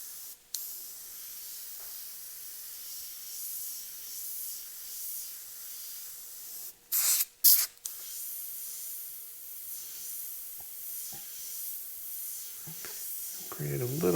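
Airbrush spraying black and grey paint onto a saddlebag gives a steady soft hiss, with a couple of brief louder bursts partway through and faint handling noises.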